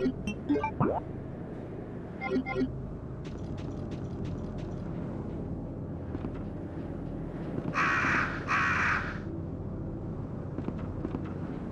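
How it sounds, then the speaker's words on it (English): Crows caw repeatedly in Resident Evil 2, harsh calls scattered across the scene with a louder burst of squawking and flapping partway through, over low ambient game rumble. "Stupid birds!"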